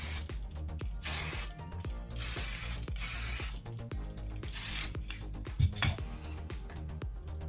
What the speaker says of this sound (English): I will just take my hairspray. I will give it one final little spurt.